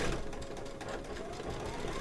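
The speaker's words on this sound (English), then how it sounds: "So now we're just going to be stitching out the clovers." An embroidery machine stitches out clover designs with a fast, continuous mechanical whir and chatter, heard fairly quietly and steadily throughout.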